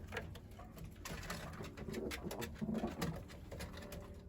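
Soft, low coos from Şekeriye pigeons in a coop repeat a few times close by, gentle and throaty, over a quiet background of light shuffling and rustle.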